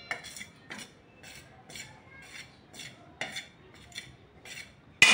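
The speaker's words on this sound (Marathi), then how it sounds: "सारखं हलवायचं आपल्याला हे पीठ मस्त असं बारीक गॅसवर" Flour being stirred and roasted in a dry pan on low heat, heard as a regular series of scraping strokes from a spoon against the pan, about two per second, fairly quiet and close with no talking.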